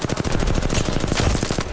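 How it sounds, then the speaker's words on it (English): Rapid automatic gunfire in Apex Legends as a player shoots at a Bloodhound: a loud, continuous stream of evenly spaced shots, close up and alone without talk. "Continue to shoot the bloodhound."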